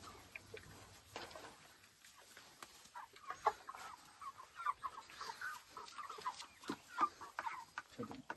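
Chickens on a poultry farm cluck in scattered, overlapping calls at moderate distance, with a soft background hum and no speech.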